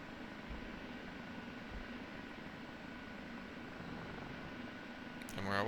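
An OH-58D Kiowa Warrior helicopter in the DCS flight simulator, loaded with four Hellfire missiles, lifts off with a steady, dense rotor and turbine roar that holds throughout, then swells louder at the very end.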